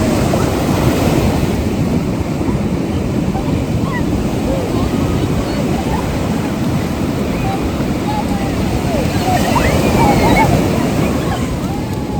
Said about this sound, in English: Jump in the waves.